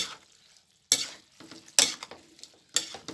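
Pad see ew noodles are stir-fried in a pan with sharp scraping stirs at regular intervals over a faint sizzle.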